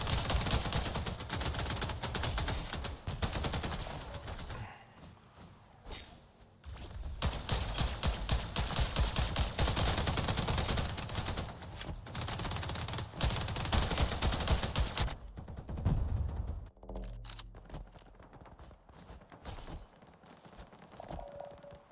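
AK rifle fire in a video game comes as dense, loud bursts of rapid automatic shots in two long stretches, then breaks off into quieter clatter and scattered sounds near the end, with no speech.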